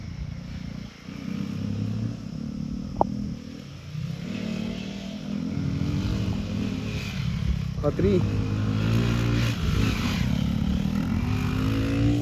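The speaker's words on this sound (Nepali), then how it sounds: "हामी चाहिँ यो बाइकमा प्र्याक्टिस गर्दैछौँ। म चाहिँ एक्सपल्समा यहाँ।" A Hero Xpulse 200 rides on a dirt track, its engine droning steadily with rising revs and clattering under continuous talk and wind noise.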